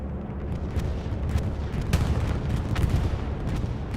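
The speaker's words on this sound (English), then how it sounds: "Dual bombing runs, actually, going on off." Bombing run explosions in a multiplayer battlefield video game, a dense continuous rumble of booms and blasts with a few sharper cracks, loud and sustained without pause.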